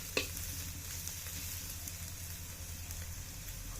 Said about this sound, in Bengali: চাম ঘাস ভাজি আমার হয়ে গেছে দেখুন, ভেজে নেওয়া হয়ে গেছে